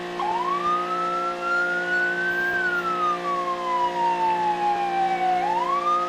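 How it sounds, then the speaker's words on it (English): A video game police car siren wails, sweeping slowly up and down in pitch over a steady electronic hum, loud and continuous with no talking. "Turn the lights on and the siren."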